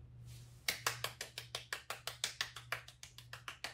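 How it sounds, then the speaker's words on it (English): A single pair of hands claps in a steady, even rhythm, about fifteen crisp claps, close and fairly quiet over a low steady hum, at a fashion design school ceremony. "Oh, a round of applause"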